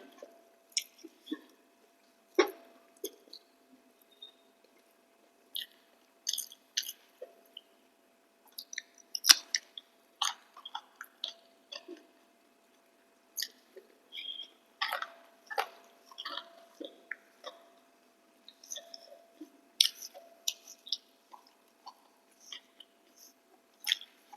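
Someone chews cauliflower pakoras, giving soft, wet, squishy bites and crunches in irregular bursts separated by quiet gaps, close and fairly faint, with no talking.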